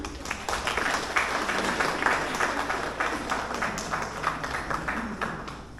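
An outdoor crowd at a kayaking challenge prize ceremony claps steadily for several seconds, a dense even patter that fades slightly toward the end.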